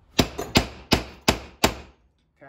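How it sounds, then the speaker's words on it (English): A hammer strikes a metal punch held on a marked metal workpiece for sculpture assembly, five sharp, evenly spaced ringing taps close up, followed by a brief quiet. "Then I take a punch and a hammer, place it on the mark,"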